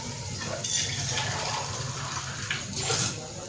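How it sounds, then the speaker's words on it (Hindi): Water poured into a pot of urad dal lentils in a home kitchen, a steady close gushing flow with a couple of brighter splashy surges. "अब इसमें उतना पानी डाल लेना है आपने कि जिसमें दाल गल सके।"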